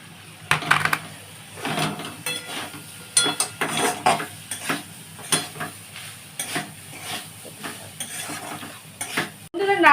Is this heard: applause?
no